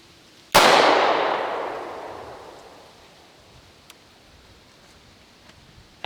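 A PSA Dagger Compact pistol fires a single MagTech round at a range, a sharp, loud, close crack that rings and decays over about two seconds, followed by quiet.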